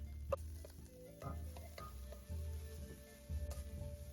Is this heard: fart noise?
no